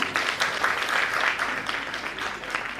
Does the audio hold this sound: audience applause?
yes